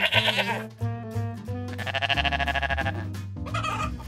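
Goat bleats on a farm, several wavering cries in quick succession, close and clear, with brief pauses between calls and faint clucking fowl in the background.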